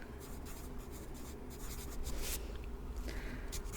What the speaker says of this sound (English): Just write down your name again.